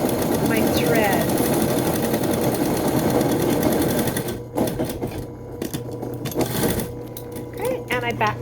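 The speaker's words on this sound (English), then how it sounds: "I'm going to start out here at the top, and I do a few stitches and then I back stitch just so I secure my thread" A sewing machine stitches a face mask with back stitching: a rapid, close mechanical whirring run, then shorter stop-start bursts as it reverses, with a voice talking over it.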